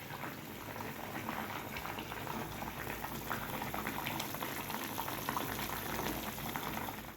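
Pomfret fish simmering in a mustard curry, bubbling steadily in the pan with a dense, continuous crackle and pop, close up and alone without speech.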